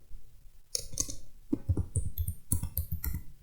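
Fingers type on a computer keyboard in short, close bursts of uneven clicks and taps, with no voices.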